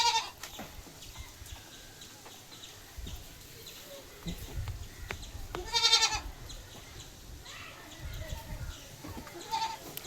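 Young male goats of local Malabari breed bleat at a livestock sale, a few short cries standing out above a low, muffled outdoor background with faint bird calls and shuffling.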